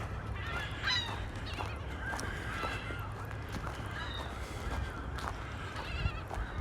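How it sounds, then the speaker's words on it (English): Geese and other waterbirds honk and call across open water at Wascana Lake in Regina in early spring, a busy, overlapping chorus of squawks heard from a short distance over steady outdoor background noise. "lots of open water, lots of birds having conversations"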